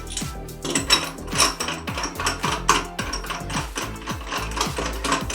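Faucet metering cartridge in a restroom trailer being pushed back into its housing, a steady run of close, rhythmic clicking and ratcheting mechanical sounds with no talking.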